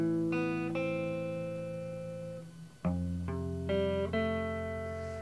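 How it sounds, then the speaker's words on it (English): Two interlocking electric guitar riffs from a song intro play together, clear sustained picked notes in a steady pattern with a brief gap near the middle, played alone without talk. "And those two guitar riffs together sound like this."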